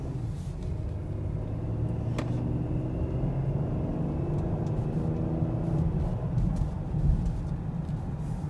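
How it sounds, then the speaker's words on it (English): Cabin view of a 2021 Ford Explorer under gentle acceleration on a street, a steady low engine hum and road rumble holding even throughout, with a faint click partway through and no talk. "Let's just turn onto the street here, do a little soft acceleration."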